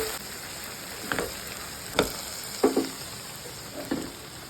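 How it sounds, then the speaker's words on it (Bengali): Mustard and poppy seed paste fries in oil with a soft continuous sizzle, broken by several sharp scraping stirs of a spatula against the pan at irregular intervals, close and moderately quiet. "সরিষা পোস্ত বাটা হালকা করে নেড়ে নিচ্ছি।"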